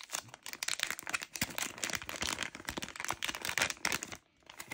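An empty plastic bag from a camera box is unpacked and crinkled up close, giving a dense run of crackling, rustling plastic with sharp snaps throughout and a brief lull near the end.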